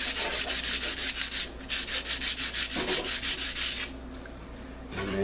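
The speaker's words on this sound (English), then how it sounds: "So you can sand it, generate some heat." Rapid, close back-and-forth sanding strokes rub along a wooden arrow shaft in a steady rhythm, pause briefly, then resume before fading to quiet.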